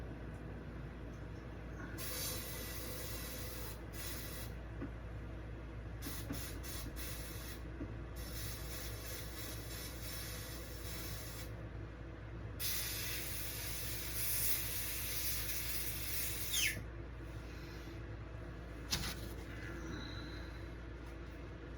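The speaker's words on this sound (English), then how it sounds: "Over here spraying out, and my airbrush decided to whistle." Steady hissing spray runs throughout, with bursts that swell and cut off, and a faint thin whistle rising over the hiss.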